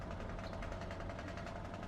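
A steady, low truck engine idle in Euro Truck Simulator 2 hums continuously with a faint rhythmic pulsing, even and unchanging, with no voices.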